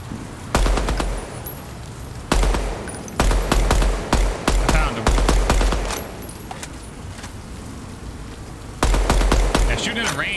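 Automatic weapons fire in the online shooter Deadrop, with loud bursts of rapid gunshots repeating in clusters from close range and short gaps between volleys.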